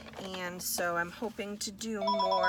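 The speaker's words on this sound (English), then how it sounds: "Oh no, that's my phone." A phone's ringtone starts up under ongoing talk, a steady tonal ring that swells toward the end of the moment, close by and loud, with the speaking voice continuing over it.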